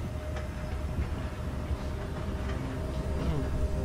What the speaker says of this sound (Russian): Попробуем сейчас уехать на поезде.